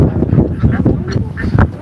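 Domestic ducks kept in a village farmyard quack loudly and repeatedly close by, a busy overlapping chorus with some faint background voice.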